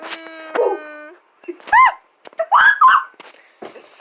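A dog gives a few short barks and whimpers in a room, with irregular yips and whines spread across a few seconds, fairly close and moderately loud.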